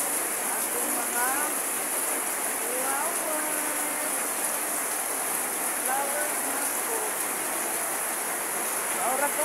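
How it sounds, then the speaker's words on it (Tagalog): Heavy rain pours steadily in Cabalian, a dense unbroken hiss that stays loud throughout, with faint bird chirps and distant voices underneath. "Grabing uwan. Parang kauwan. Sobra."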